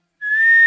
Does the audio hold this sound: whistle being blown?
yes